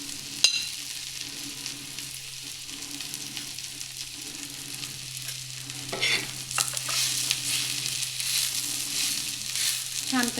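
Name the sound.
onion and grated coconut being sautéed in a pan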